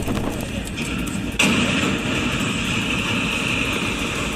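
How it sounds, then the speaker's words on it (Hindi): A heavy, rumbling roar is broken by a sudden loud crash as a freight train slams into another freight train standing on the track, then grinding, sustained collision noise continues. "देखिए, मालगाड़ी ट्रैक पर खड़ी दूसरी मालगाड़ी से टकराती है"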